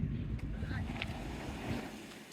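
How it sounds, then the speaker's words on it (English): A chilly breeze picks up along the seafront near a pier, buffeting the microphone as a steady low rumble of wind for the whole stretch, with faint surf behind it and no speech. "Breeze is picking up now and it's got a bit chillier."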